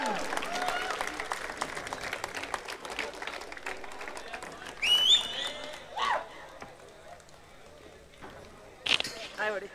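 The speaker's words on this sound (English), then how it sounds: "Give a big round of applause for CSGO, ladies and gentlemen." A crowd at a Counter-Strike: Global Offensive esports finals claps and cheers, loud at first and then fading, while an amplified voice speaks over it.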